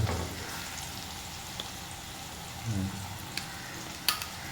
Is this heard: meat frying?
yes